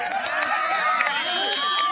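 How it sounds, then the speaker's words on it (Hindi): Spectators at a volleyball tournament final roar and cheer steadily throughout, a dense, loud crowd noise with shouting voices layered on top. "जोरदार तालियां लगी फटाक से"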